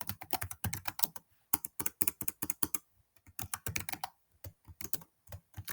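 Quick, light clicking of computer keys in short uneven bursts with small gaps, close by and fairly quiet.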